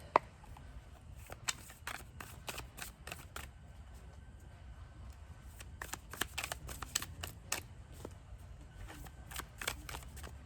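Starseed Tarot cards being shuffled by hand, a close series of crisp riffling bursts repeating in quick clusters with short pauses between, no talking.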